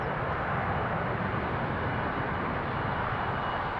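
A KLM Airbus A330 jet airliner at Amsterdam Schiphol Airport, its engines giving a steady, loud, broadband roar throughout, close and continuous with no talking.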